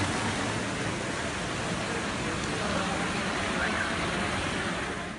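Rain falling on Karachi streets during a monsoon downpour, a steady dense hiss without a break throughout.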